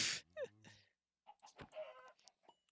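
A Minecraft chicken gives a few quick clucks at the start. Then comes a burst of other game sounds and scattered clicks, with a short silent gap between them.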